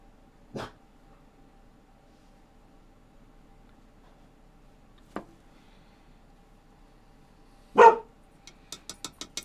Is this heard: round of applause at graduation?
no